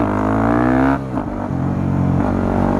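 A motorcycle in second gear is revved hard for a wheelie attempt. The engine note climbs steadily and loudly, then drops off sharply and settles into a steady lower hum, with no talking.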